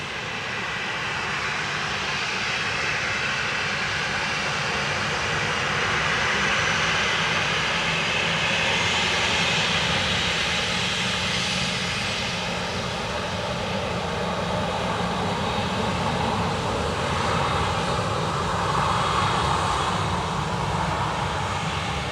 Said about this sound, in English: Dreamliner from Chicago